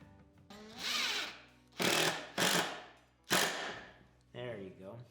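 A power drill drives a screw into a pocket hole jig joint in wood. Several loud whirring bursts rise in pitch, then stop, with short pauses between and a faint voice underneath.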